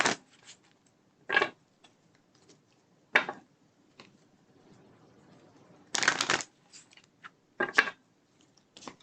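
Tarot cards being shuffled in quick riffling bursts separated by quiet gaps, close and crisp, with faint soft handling noises in between.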